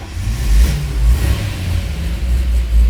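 A 1962 Chevrolet Impala SS 409 with solid lifters runs loud and close, its deep engine rumble swelling in a few revs over a steady idle.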